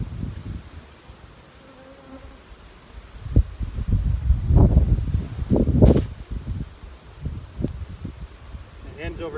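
Honey bees from an open hive in a commercial beekeeping operation during a colony split, with a steady close buzzing and swelling drones while a person talks over it.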